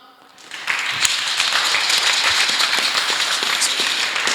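A church congregation bursting into applause, the clapping rising quickly from near silence into a steady, dense, loud crowd ovation that continues to the end.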